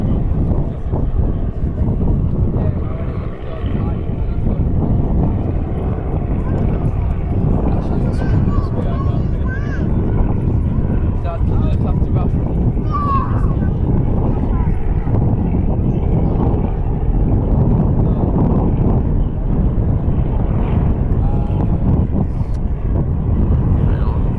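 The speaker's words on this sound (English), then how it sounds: "the next plane's getting ready to go" A light plane readies for takeoff at Caernarfon Airport, a steady engine drone and wind rumble running throughout with people chatting nearby.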